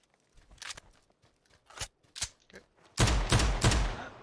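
Rapid bursts of M249 machine gun fire in a shooter video game, with scattered shots and clicks early on, then a loud sustained burst near the end.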